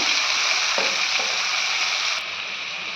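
Spices are stirred into a cooking pot of green banana and cabbage, a steady close sizzle with a couple of soft scraping strokes, the hiss dropping slightly toward the end.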